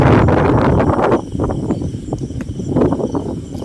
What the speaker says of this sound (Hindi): देख सकते हैं कितनी तेज हवाएं चल रही है।